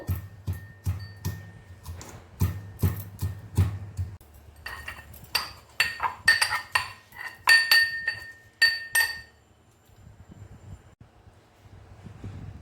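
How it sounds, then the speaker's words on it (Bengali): Garlic and ginger crushed for onion pakora, giving a run of sharp, evenly spaced clinks and knocks close by, first steady beats and then quicker, brighter hits, before fading into quiet near the end. "বেশ কিছু রসুন আর নিচ্ছি আদা রসুন থেতো করে নেব।"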